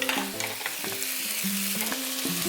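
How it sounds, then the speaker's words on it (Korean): Vegetables stir-fried in a pan for spicy Korean stir-fried squid, a steady close sizzle with repeated scraping stirs and tapping of the utensil against the pan, no voices. "좀 푹 익는 야채를 좋아하시는 분들은요 조금 오래 볶아주시고요"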